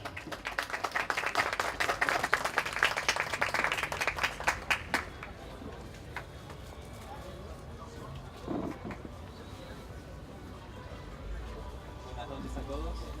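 A conference audience applauds to welcome a speaker, dense clapping for about five seconds before fading into quiet room noise with faint murmuring.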